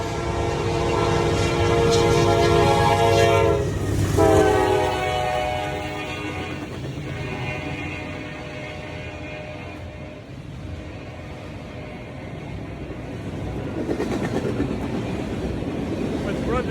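A train horn blares loudly with sustained blasts in Chesterton, Indiana, then rail cars rumble past steadily, the noise staying strong before easing and swelling again.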